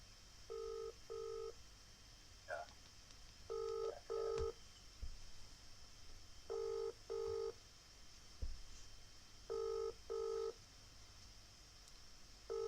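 A telephone ringback tone sounds in paired bursts repeating every few seconds, thin and moderately quiet over a low background hum.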